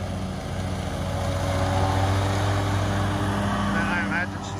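Mower engine droning steadily while cutting grass, a constant low hum with steady harmonics close by, and a brief whine near the end.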